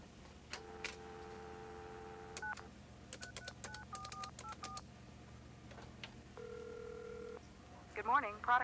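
Touch-tone telephone dialing from a 1988 AT&T film: a long dial tone, then a quick run of DTMF key beeps, a pause, another sustained tone, and a chirp at the end, with speech-like sound mixed in.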